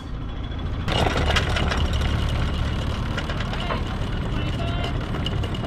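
A sailboat's motor idles in reverse while coming into an anchorage, a steady, rough low rumble that stays close and continuous throughout.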